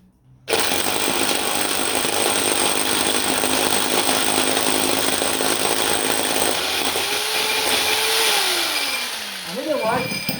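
Drill bit boring through a plaster wall for a kitchen water line, a loud, steady, close whine that runs unbroken for about ten seconds before the pitch wavers and slows at the end.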